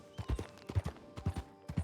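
Horse hooves clip-clop in an uneven walking rhythm in the video game WildRP (Red Dead), fairly close but quiet, with no talk over them.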